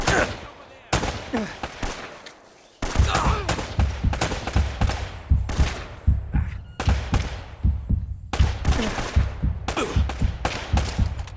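Gunfire from the video game Uncharted 2 rings out in rapid bursts of loud, close shots with short pauses between volleys, set against a low rumbling game soundtrack.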